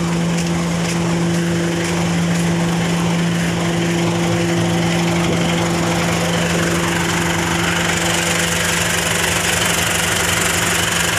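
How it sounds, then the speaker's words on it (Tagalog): A Toyota Revo engine, freshly overhauled and being broken in, runs steadily and loudly throughout, with a constant droning hum and rattling, knocking texture, no voices. "Tingnan ko muna yung pinaandar ng makina."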